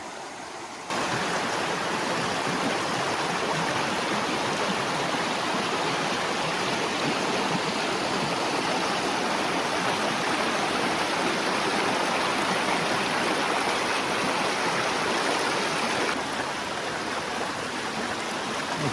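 A Bieszczady mountain stream carrying woody debris rushes loudly and evenly, a close, broad wash of flowing water that begins abruptly and continues unbroken with no voices.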